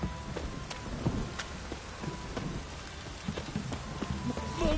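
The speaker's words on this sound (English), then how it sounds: "This downpour's a bastard, it is." Heavy downpour in The Witcher 3, a steady rain hiss with scattered sharper drops throughout, fairly quiet and with no talk over it.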